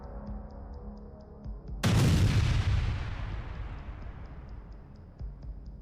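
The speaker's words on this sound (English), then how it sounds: "triggering a violent explosion" A sudden, violent explosion of a tank struck by a drone bursts in, loud and close, then rumbles and decays over several seconds beneath a steady background hum.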